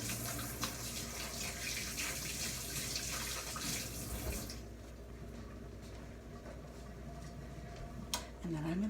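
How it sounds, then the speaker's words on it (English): Cold tap water runs as hands are rinsed at a kitchen sink, a broad steady hiss that stops about halfway through, leaving quieter room sound and a few small clinks. "I'm going to clean my hands off with cold water, because then it comes right off"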